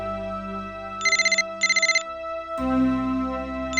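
A phone ringtone plays two short bursts of electronic trilling chimes, then a louder ringing tone starts, over a quiet musical background.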